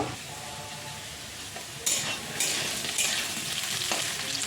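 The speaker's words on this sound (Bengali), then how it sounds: "তো আলু টমেটো ভাজা হয়ে গেছে" Potatoes and tomatoes fry in a hot pan with spices, giving a loud, steady sizzle broken by a few scraping stirs of the spoon; no one speaks.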